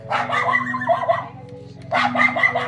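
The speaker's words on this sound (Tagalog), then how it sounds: "kasama namin itong mga alaga naming mga aso" Pet dogs bark and yip in two bursts during a summer vacation in Capiz, Philippines, close and loud, with a short pause between them.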